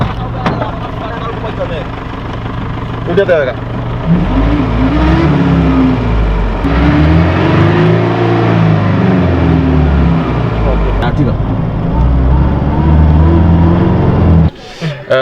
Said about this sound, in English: there's some strange noises when he lets off the throttle